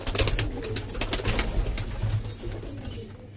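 Madras Kasma pigeons cooing in a loft, low continuous coos mixed with rustling, shuffling and clattering, fairly close and busy throughout.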